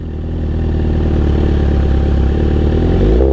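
Motorcycle engine held at around 3,000 RPM before a drag-racing launch, a loud, steady, throbbing mechanical drone that builds slightly early on and stays close and continuous.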